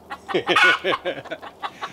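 Chickens clucking and a rooster crowing near a cabin chicken coop in Alaska, a busy run of loud, overlapping calls close by.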